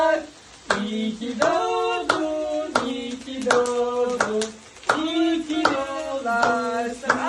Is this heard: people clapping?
yes